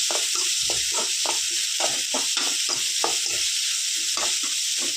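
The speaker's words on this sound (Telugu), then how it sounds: "ఆనియన్ వేసి ఒక 2 minutes ఫ్రై చేసుకోవాలి" Thinly sliced onion fries in a pan, making a loud, steady sizzle. About a dozen quick stirring scrapes repeat in a brisk, regular rhythm, with no talking.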